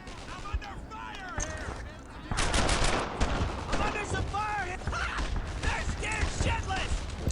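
Gunfire from the World War II shooter Brothers in Arms: Earned in Blood. Scattered shots build into dense, sustained rattling fire midway, with people talking over the battle throughout.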